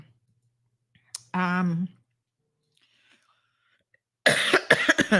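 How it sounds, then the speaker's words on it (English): A single sharp click, then a short voiced hum, and after a pause a burst of harsh coughing close to the microphone, several coughs in quick succession. "sorry for the coughing in the microphone"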